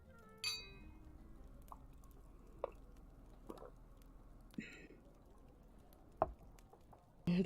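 Drinking glasses clinking during a night of drinking, a few faint, sparse bright clinks and small taps spread apart in a quiet room, with soft movement between them.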